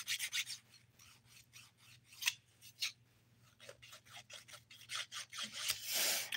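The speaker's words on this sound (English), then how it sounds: "so we are good to start filing" Nail file rasping across dip powder nails during a manicure, quiet, close strokes in short rhythmic bursts with brief pauses, and no talking.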